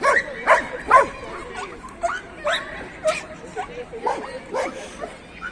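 A pit bull whines and yelps while hunting, in short high-pitched bursts, about a dozen over a few seconds, fairly close, with a thin cat-like quality.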